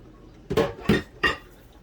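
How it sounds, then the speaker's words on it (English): A whisk beats gluten-free waffle batter made with avocado oil and butter in a bowl, giving three quick, close metallic clinks against the side. "give that a good whisk till it's all nice and incorporated"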